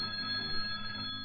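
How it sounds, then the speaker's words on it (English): A telephone rings into a radio call-in show studio, a steady electronic tone held briefly, close and moderately loud with no talk over it. "Oh, the phone's ringing."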